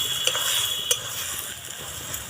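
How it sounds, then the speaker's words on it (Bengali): A spoon stirs fried soya chunks with spinach in a pan, with soft scraping and a light sizzle plus a few sharp clinks of utensil on metal, close and without talk. "আরও একবার ভালো করে নাড়াচাড়া করে নিলাম"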